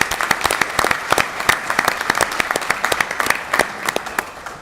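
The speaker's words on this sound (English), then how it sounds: "give one more round of applause for these outstanding students" Applause at a school board of education meeting for outstanding students, a modest crowd clapping with distinct individual claps standing out, fairly close and sustained for several seconds.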